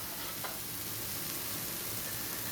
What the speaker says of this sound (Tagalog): tuloy-tuloy lang ang pag-prito